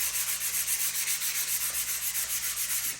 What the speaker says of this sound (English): Just gonna give this a quick little sand.